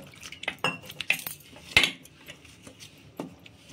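Paneer snack batter being mixed with water in a bowl, with repeated sharp clinks and scrapes of a spoon against the bowl in an uneven rhythm, close and fairly loud, and no one speaking.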